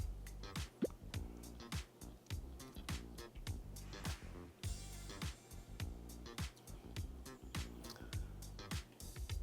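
Fragrance oil is poured from a jar into a soap batch, producing quiet, close dripping and liquid trickling with a fairly steady pattern of small drops and splashes.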